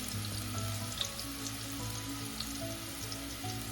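Pork hock browns in a pan with a steady, low frying sizzle and faint crackles throughout, even and continuous with a dull low hum underneath, no voices.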